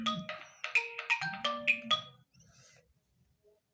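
A mobile phone's melodic ringtone plays in a lecture room, a quick run of bright tones for about two seconds before cutting off into quiet.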